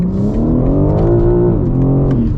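A BMW M4 Competition is driven hard, its engine note droning in steady, rising and falling harmonics at close range, loud and continuous with a brief dip in pitch near the end.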